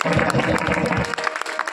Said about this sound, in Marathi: मला वाटतं सप्ताहाचे रौप्य महोत्सव वर्ष एकदा टाळ्या वाजवा